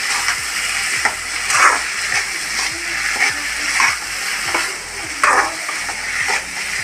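Cowpeas stir-fried into vanpayar mezhukkupuratti are turned in a hot pan, giving repeated close scraping strokes every second or so over a continuous sizzle.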